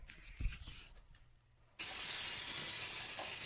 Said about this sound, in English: we've had the steam going, venting for 10 minutes